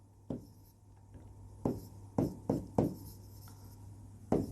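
Marker or pen strokes on a board while a maths problem is worked out, a few short separate scratchy strokes spaced irregularly over a quiet room hum, with no talking.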